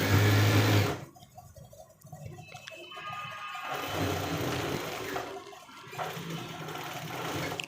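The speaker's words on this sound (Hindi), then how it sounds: "जैसे जैसे कोट को सिलाइयाँ लगानी है ऐसे ऐसे ही हमने सिलक को भी साथ ही स्टिचिंग कर लेना है।" A tailor's sewing machine stitches a coat together with its silk lining, giving a brief loud burst followed by stretches of rapid mechanical whirring that start and stop close by.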